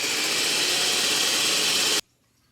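An electric mixer whips egg whites for meringue cookies, a loud, steady, close whirring drone that runs unbroken for about two seconds and then cuts off abruptly into near silence.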